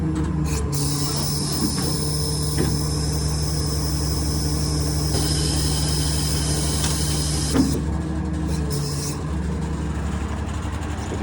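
A 2016 Kenworth T370 truck with a PX9 350 HP engine and Allison automatic sits at idle, a steady low diesel rumble with a constant hum running throughout, a faint rattle or two on top, no talking.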